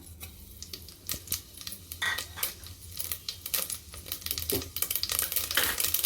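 Dense crackling and popping of mustard seeds, cumin and asafoetida spluttering in hot oil on a gas stove, with rapid irregular bursts throughout and a steady low hum beneath.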